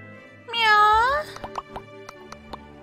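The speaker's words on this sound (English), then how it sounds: "Meow." A cat in the farming life-sim game My Time at Portia gives one drawn-out, rising-and-falling meow. A short run of soft plops and ticks from the game follows it. No one speaks.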